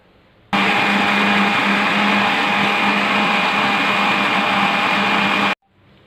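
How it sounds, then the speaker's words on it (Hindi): An electric blender grinds peaches with water for a drink, a loud, steady motor whir that starts abruptly, holds constant for about five seconds, then cuts off. "अब इसको हम ग्राइंड कर लेंगे।"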